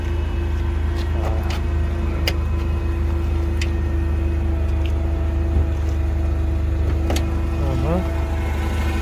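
A Toyota 6FG15 forklift, a 1.5-ton Japanese lift truck, idles with a steady low engine hum, joined by scattered faint clicks and light background noises.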